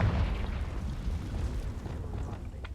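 A Confringo blasting spell explodes in Hogwarts Legacy, with a deep rumbling boom that starts loud and slowly fades away.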